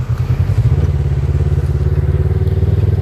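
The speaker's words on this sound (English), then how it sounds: "Okay, so we're still driving on the beach." A Polaris RZR side-by-side drives on a beach, its engine a loud, close, steady rumbling drone with a rapid pulsing throb and no talk.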